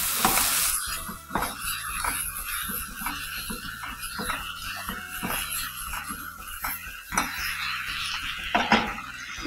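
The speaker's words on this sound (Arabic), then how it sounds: "ناخد نحط الخرشوف ونقلب كده تقليبة" Artichokes stirred in a pan for a freekeh and mushroom tagine with vegetables and minced meat, a spoon scraping and clacking against the pan in a steady rhythm over a soft sizzle.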